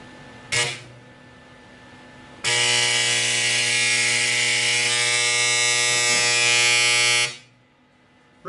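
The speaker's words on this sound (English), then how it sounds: "I'm just going to test the transformer on the top by plugging it directly into an extension cord" A homemade metal transformer plugged into an extension cord gives a brief buzz, then a loud, steady electrical hum with a harsh rasp that holds for about five seconds and cuts off abruptly, with no talking.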